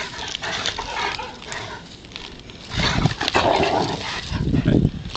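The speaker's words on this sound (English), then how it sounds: "They're growling at each other and trying to play." Two dogs playing during a socialization session growl at each other in low, rough bursts that grow louder and busier toward the end, with scuffling and panting mixed in.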